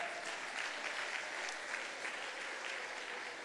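A church congregation applauding at a convention service, steady dense clapping from a large crowd throughout, moderately distant and even in level.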